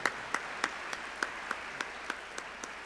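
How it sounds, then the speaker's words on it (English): Slow, evenly spaced hand claps, about ten in a steady rhythm, fairly faint, with no voices. "Let's give that a round of applause."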